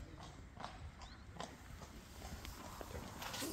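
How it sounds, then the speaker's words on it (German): A horse walks along a village street, its hooves clip-clopping in a slow, even rhythm against a steady background hiss, fairly close and moderately loud. "Warum läuft hier ein Pferd hier rum?"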